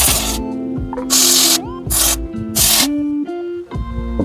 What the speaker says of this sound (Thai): ก็ฉีดล้างเบรกข้างนอก